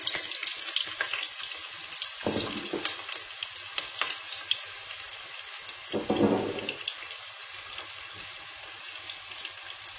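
Onions sizzle and fry in hot oil in a pot for a Congolese pepper soup, a steady close crackling hiss with brief louder bursts, no voices.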